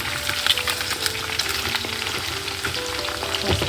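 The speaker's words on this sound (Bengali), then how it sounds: "আর তোমার এদিকে চিলি চিকেনের জন্য ভাজা হচ্ছে চিকেন পকোড়াগুলো" Chicken pakoras for chilli chicken frying in oil, heard as a dense, close bubbling sizzle with crackling pops throughout and faint background tones, without speech.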